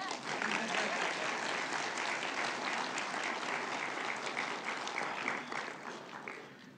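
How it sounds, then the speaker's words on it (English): Sustained audience applause fills a hall at a university history department event, loud and dense throughout before tapering slightly at the end. "you can clap for them"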